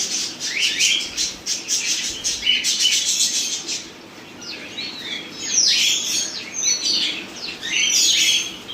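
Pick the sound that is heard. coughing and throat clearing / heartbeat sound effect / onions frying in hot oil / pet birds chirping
pet birds chirping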